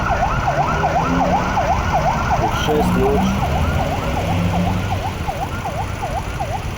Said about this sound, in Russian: Вот так вы будете слушать сирены.